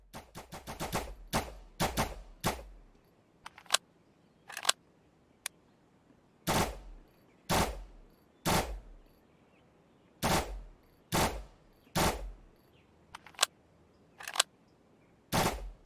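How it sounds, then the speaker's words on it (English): Bursts of full-auto fire from the R14 rifle in an Unreal Engine first-person shooter ring out as sharp, loud volleys separated by short pauses, with some single shots between them and no talking. "You can switch between firing modes. For example, the R14 rifle is by default on full auto."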